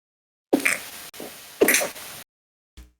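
Two quick sneezes burst out close and loud indoors at a board game table, each a sharp explosive blast with a short breathy tail, followed by a faint bump.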